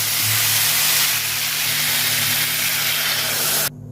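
Water is poured into a pan of frying spiced potato and rohu fish curry, setting off a loud, steady sizzle and hiss close by. The sound holds for several seconds and then cuts off abruptly.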